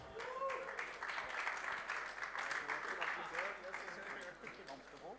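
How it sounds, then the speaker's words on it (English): Audience applause for a conference panel on real-world asset liquidity at a summit in Cannes, a soft, distant patter of clapping from the room with a voice talking over it. "Give it a round of applause."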